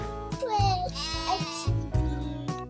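Sheep bleat repeatedly at close range on a farm during shearing, with wavering, nasal calls rising and falling in a few bursts while someone talks nearby.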